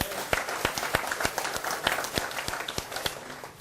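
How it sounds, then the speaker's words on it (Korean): An audience at a lecture on Korea–Japan relations claps with a handful of sharp, spaced claps standing out above a softer, scattered patter of hands, with faint murmuring beneath. "박수."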